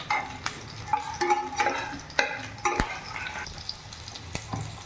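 Food fries in a pan over a full gas flame, a steady sizzle broken by scraping stirs and clinks of a utensil against the pan, close and alone with no talk.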